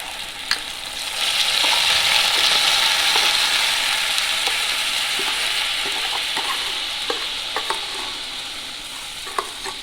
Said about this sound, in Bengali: আবার আমি কড়া বসিয়ে নিয়েছি তিলের নাড়ু করার জন্য। আমি সামান্য এতে জল দিয়ে দেবো। তারপরে আমি এই গুড়টাকে দিয়ে দেবো, এই আখের গুড়টা।